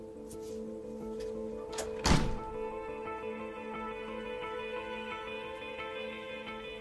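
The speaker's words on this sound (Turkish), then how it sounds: "Kapıyı da kapat." A door is pushed shut with a single short thud partway through, heard over a steady low hum in an indoor room.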